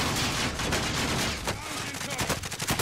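Call of Duty Warzone gunfire rattles in continuous automatic bursts, loud and close throughout, with voices talking under the shooting.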